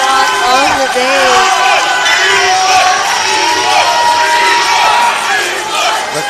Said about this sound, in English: The crowd is wild.